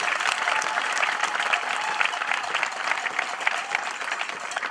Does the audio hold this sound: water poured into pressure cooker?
no